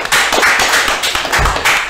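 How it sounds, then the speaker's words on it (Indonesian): Crowd at a police bodybuilding contest claps in a short, dense burst of overlapping hand strikes, close and steady. "Oke, tepuk tangan semuanya."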